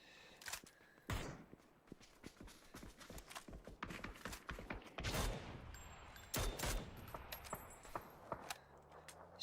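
Gunshots from a competitive online shooter match, several sharp cracks scattered among footsteps, clicks and other busy game effects at moderate loudness.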